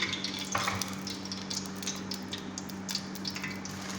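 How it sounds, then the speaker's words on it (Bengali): Vermicelli (semai) fries in a pan with a soft, steady sizzle and crackle under a low hum, broken by occasional light scraping and stirring clinks. "আমি স্যামাইরা একটু ফ্রাই করবো"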